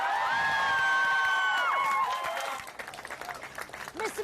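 Labour activists applauding at an election event, a loud crowd of clapping and cheers with whoops rising over sustained voices before settling into scattered claps.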